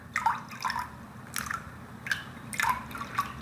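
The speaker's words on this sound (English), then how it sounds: "if we pour in some of our red hot water" Hot water dyed red poured into a container of water, giving soft drips and splashy trickles in uneven bursts, close and fairly quiet.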